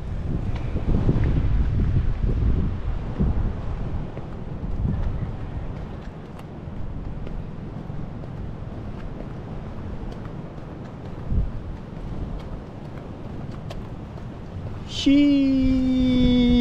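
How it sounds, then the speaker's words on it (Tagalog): Steady wind rushing and buffeting against the microphone by the sea, a low continuous roar throughout, with a brief engine-like tone entering at the very end. "Oh, sarap ng hangin guys."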